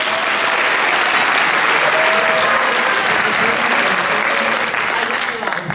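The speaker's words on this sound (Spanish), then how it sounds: "pido un fuerte aplauso para él." A loud, dense ovation fills a congressional Dominican Heritage Month event honoring Adriano Espaillat, steady clapping throughout with voices and cheers faintly mixed in.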